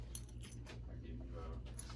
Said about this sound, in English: Keys have been freed. There were actually a lot of keys in there.